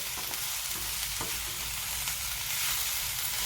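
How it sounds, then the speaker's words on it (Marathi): Capsicum pieces stir-fry in a hot pan, giving a continuous even sizzle with a faint scrape of stirring, close and steady, no voices. "आपण एक मिनिट आता ही मिरची अशीच परतून घेणार आहोत"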